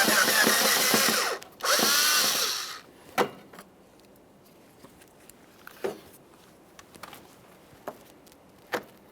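A power driver spins out the last Phillips head screw from the HID ballast module of a 2007-2013 Acura MDX 3.7L V6 in two loud close whirring bursts, followed by scattered clicks and knocks as the module is handled.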